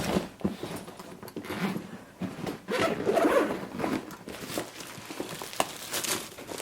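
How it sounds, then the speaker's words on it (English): A makeup kit bag is unzipped in one continuous pull, the zipper rasping steadily for several seconds at close range with some crinkling of the bag's material, no talking. "Then you unzip the kit."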